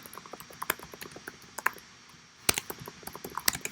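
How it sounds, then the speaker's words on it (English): Fingers tap out a message on a computer keyboard, quick irregular clicks in short bursts with brief pauses, close and fairly quiet. "So I'll type in my announcement."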